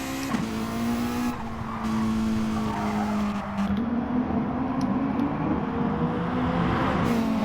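Race cars in a sim racing video game brake hard into a corner, their engines droning and shifting pitch while tyres squeal and skid. The cars sound close and fairly loud, with no talking.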